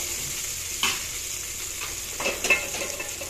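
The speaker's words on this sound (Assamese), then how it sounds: "পিঁয়াজখিনি অলপ ৰংচঙীয়া হ'বলৈ দিম। পিঁয়াজখিনিও ৰংচঙীয়া হৈছে।" Onions frying and being stirred in a pan while making egg curry, a steady close sizzle with a few louder scrapes of the spoon, no voices.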